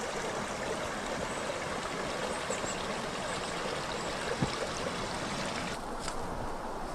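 A small outdoor stream flows in a steady, continuous rush and babble of water, close and even throughout, with no voices.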